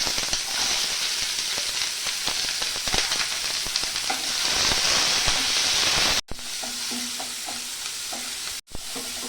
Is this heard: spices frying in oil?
yes